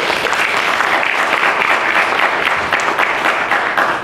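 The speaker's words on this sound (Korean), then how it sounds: "큰 박수가 필요합니다." A large audience at a Korean youth forum gives loud, sustained applause, a dense steady clatter of many hands holding evenly throughout.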